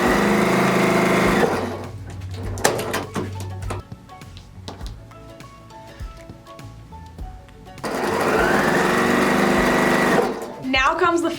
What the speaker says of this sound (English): all we're going to do for these is just sew 1/4 inch seam allowance down both sides